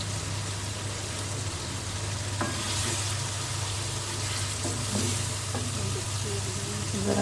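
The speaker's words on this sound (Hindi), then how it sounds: "ज़रा सा इसको फ्राई कर लें" Shan masala spice mix frying in a pan for achari chicken, a steady broad sizzle running throughout with a few faint scraping stirs, close and without talk.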